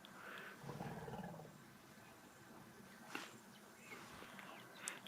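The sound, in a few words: female elephant rumbling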